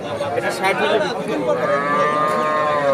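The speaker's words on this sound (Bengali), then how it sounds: "অস্ট্রেলিয়ান জাতের বকনা বাছুর" An Australian-breed heifer calf moos loudly and close at a busy cattle market, its drawn-out lowing calls rising over a background of people chattering.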